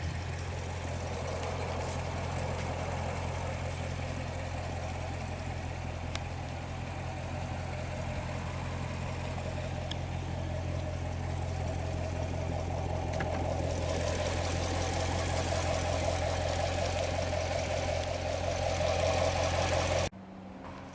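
The 6.2-liter LT1 V8 of a 2014 Chevrolet Corvette Stingray runs steadily at idle, a low, even rumble held throughout before it cuts off abruptly at the end.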